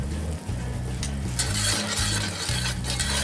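Gravy stirred and simmering in a cast iron skillet, a steady bubbling sizzle with soft scraping and occasional clinks from the stirring utensil, close and continuous.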